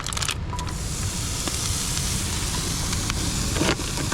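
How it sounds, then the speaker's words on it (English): Bacon frying in a pan over an open fire outdoors on rocks, a steady dense crackling sizzle that holds close and fairly loud throughout, with occasional sharper pops. "get some bacon in the pan"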